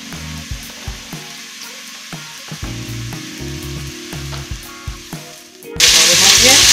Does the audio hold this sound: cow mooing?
no